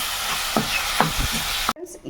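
Prawns are stirred into cooked tomato in a hot pan for a prawn curry with ridge gourd, giving a constant close sizzle broken by a few scraping stirs before it cuts off.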